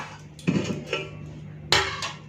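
Rice being served onto plates with utensils: a few sharp clinks and scrapes of dishes and cutlery, fairly quiet, with short pauses between the knocks.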